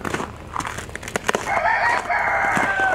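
A rooster crows loudly nearby, a long drawn-out call rising over a noisy outdoor background, no speech.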